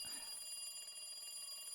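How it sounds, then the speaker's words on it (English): The phone in Higurashi keeps ringing, a faint, continuous electronic bell tone that stays level throughout, with a soft thump right at the start. "The phone continued to ring."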